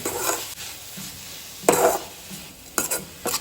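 Cabbage being stirred in a pan with salt and a pinch of turmeric, with a steady soft sizzle and scraping strokes of a spoon, and a few sharper clatters against the pan.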